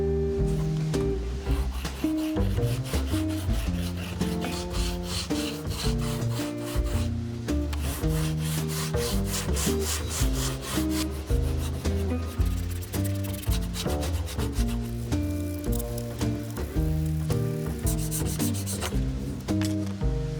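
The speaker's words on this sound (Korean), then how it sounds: "우선 거친 사포로 면을 다듬어 봅시다." Coarse sandpaper rubs back and forth over the leather handle of a Prada bag in quick, continuous scratchy strokes, close and steady with brief pauses.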